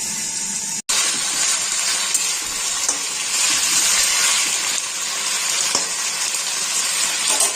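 Potatoes frying in a pan for a Bengali onion-stalk and small-fish chochhori, a steady broadband sizzle running throughout with a brief dropout near the start and faint stirring clicks.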